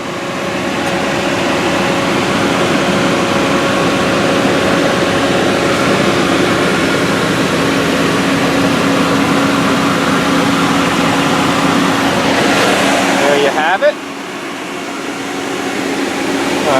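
A 4.7-liter Magnum V8 in a 2001 Dodge Durango Sport 4x4 idles with a steady, loud, droning hum and a whirring fan, continuous and close, then it dips briefly near the end.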